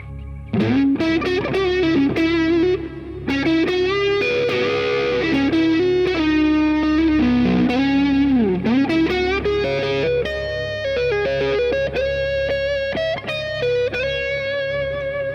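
A distorted electric guitar plays a blues solo using ninths, with bends and sustained notes, loud and alone for about fifteen seconds.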